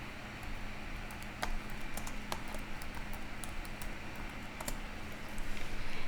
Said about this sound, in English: I'm going to type it in here